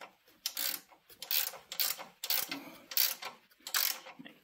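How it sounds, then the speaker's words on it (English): A hand ratchet tightens a trailer hitch on a Can-Am Spyder, giving a close, steady series of raspy clicking strokes in a regular back-and-forth rhythm. "as we get done ratcheting here, tighten that up real good."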